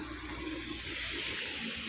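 Swollen Vashishti river floodwater after heavy rain, rushing below a hillside in a steady, loud, unbroken roar for about two seconds.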